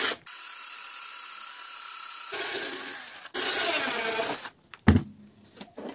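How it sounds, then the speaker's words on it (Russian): A small drill bores a hole straight through a plastic bottle cap, with high whining bursts that stop and restart, a sharp knock near the end and brief scraping sounds, no talking. "нужно взять бутылку и насквозь просверлить отверстие в крышке"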